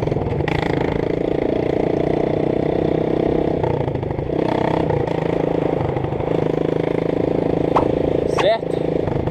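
A Honda CRF 230 dirt bike running with no exhaust pipe fitted, its raw, rattly engine idling and blipping loud and close on a dirt road, with a couple of sharp revs near the end.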